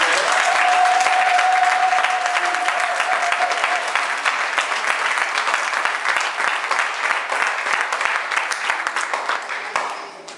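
A church congregation bursts into loud, sustained applause and clapping for Jesus, with dense overlapping claps that stay strong and slowly thin toward the end, along with a brief ringing tone near the start.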